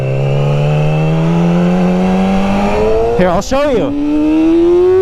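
A Yamaha R6 motorcycle pulls hard through one gear, its engine whine climbing steadily in pitch, close and loud, then a quick shift blip before the tone rises again, with a rider talking over it.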